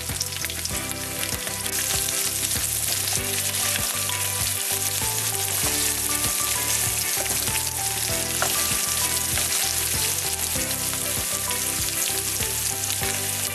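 Green chillies fry in hot oil for batata poha, giving a steady, loud sizzle that runs the whole time with a tonal background hum layered over it.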